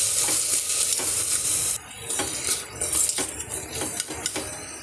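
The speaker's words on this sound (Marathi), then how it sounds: "आता आपण त्यात घालूया चवळी आणि चवळी देखील परतून घेऊया छान" Cowpeas are stirred and sautéed in a pan with cooked-down tomato, a spoon scraping and clinking steadily over a constant close sizzle that eases slightly partway through.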